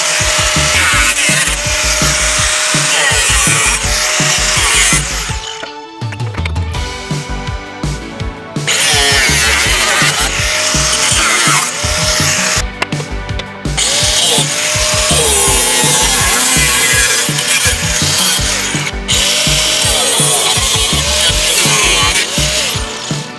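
A power cutting tool grinds through the middle metal brace of a Mazda B2200 pickup to clear a turbo intercooler, loud and close, running in long sustained bursts with short pauses between cuts.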